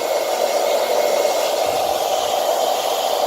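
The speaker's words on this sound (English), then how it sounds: "Just blow drying her forward." Blow dryer drying a dog's coat, a loud steady hiss of rushing air held constant throughout, close and alone with no voices.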